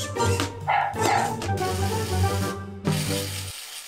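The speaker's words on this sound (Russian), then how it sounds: "О, собачка. Привет. Она дикая, чуть не укусила." A wild dog gives a few short barks and yips close by, in quick bursts with brief gaps before it falls silent.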